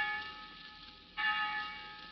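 Church-style college bells ring out with sustained metallic tones, growing suddenly louder partway through as a fuller peal swells in, with no voices over them.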